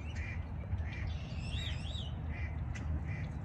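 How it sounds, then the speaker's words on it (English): Outdoor ambience with repeated high bird chirps and warbling calls over a steady low rumble, fairly faint and distant. "you can literally hear the birds and the insects chirping"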